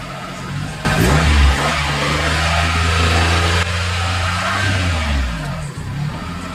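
A car engine with a head gasket leak idles, then revs up strongly to over 4,000 RPM and holds a high, steady drone before dropping back down, close and loud.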